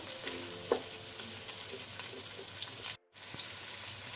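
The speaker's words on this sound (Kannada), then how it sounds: "ಈಗ ನಾವು ಮೀಡಿಯಂ ಟು ಹೈ ಫ್ಲೇಮ್ ಅಲ್ಲಿ ಈರುಳ್ಳಿಯನ್ನು ಫ್ರೈ ಮಾಡ್ಕೊಳ್ಳುವ" Onions frying in a pan over a medium-high flame, a steady soft sizzle with faint stirring clicks throughout, broken by a brief silent gap near the end.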